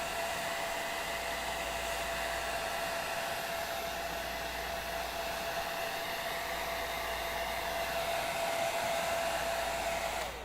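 A hair dryer runs steadily and loudly throughout, drying coats of paint on a Borg head, with a constant whooshing airflow and a sustained motor whine and no pauses.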